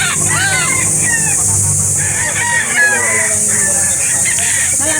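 Roosters crow repeatedly at a gamefowl market selling stags, with overlapping calls near and far amid clucking and steady crowd chatter throughout.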